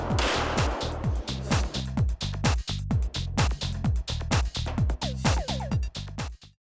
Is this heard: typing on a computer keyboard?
no